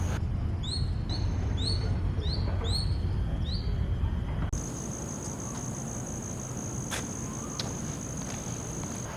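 Birds chirp in a park in Pasir Ris, Singapore, with repeated rising whistled calls in the first half, then scattered single chirps over a steady insect drone and faint outdoor background.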